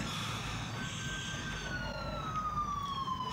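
Emergency vehicle siren in a Korean medical drama, a wailing tone sweeping slowly downward over a low traffic rumble, moderately distant and steady.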